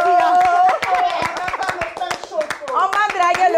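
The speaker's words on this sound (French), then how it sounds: "On applaudit le pain là." A group claps by hand in bright, uneven bursts while several voices, including a child's, talk and exclaim loudly over the clapping throughout.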